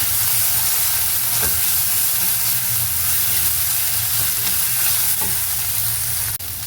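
Onion and garlic sizzle loudly and continuously in a hot pan, with faint scraping of a spatula stirring now and then.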